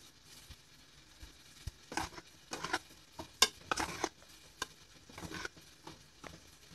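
Dough for a traditional Algerian douida frying in a pan of oil, giving faint, intermittent crackling bursts and soft spattering pops, quiet overall with short louder flurries.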